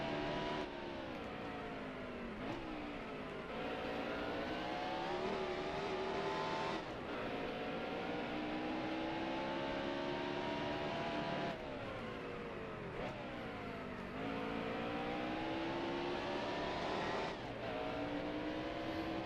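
Stock cars race in NASCAR Heat Evolution at Martinsville, a steady loud engine roar that rises and falls through repeated gear shifts and corners, alone and close for the whole stretch.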